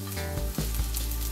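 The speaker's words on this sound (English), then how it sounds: "I'm gonna add a few pieces of garlic" Garlic sizzling in a hot pan for shrimp pasta, a steady close frying hiss with faint stirring, no voices.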